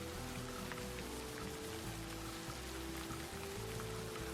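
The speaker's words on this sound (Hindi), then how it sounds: "कुछ देर बाद बारिश शुरू हो गई।" Steady rain falls in a forest, a dense, even hiss of drops pattering on leaves and ground that continues without a break from start to finish, with no voices.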